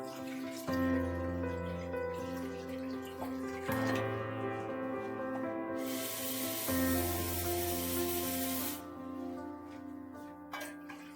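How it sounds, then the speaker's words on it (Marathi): Water poured into a kadhai fitted with a ring, set up for steaming alu wadi, a close splashing pour that comes in bursts, with some metallic ringing between pours. "आपण आता ह्याच्यात 1-2 तांबे इतकं पाणी घालणार आहोत."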